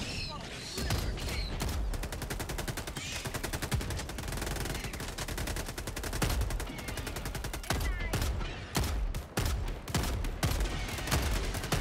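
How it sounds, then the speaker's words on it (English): A shotgun firing in the shooter game Helldivers 2, loud sharp blasts in rapid bursts close up, layered with other gunfire and explosions in the wider battle. "this shotgun's got some crazy range on it, too"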